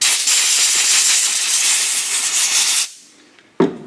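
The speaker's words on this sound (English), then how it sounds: "gets them nice and clean, and I blow them dry." Compressed air blowing transmission pan magnets dry during a 2018 Toyota Tundra transmission filter change, a loud close hiss held for almost three seconds, then a brief sharp blast after a pause.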